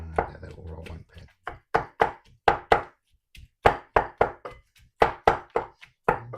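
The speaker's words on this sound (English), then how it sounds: "Make sure you smash through that garlic." Garlic smashed with a small rolling pin inside a bowl: a run of sharp, close knocks in irregular bursts, about fifteen dull thuds with brief gaps, loud and alone.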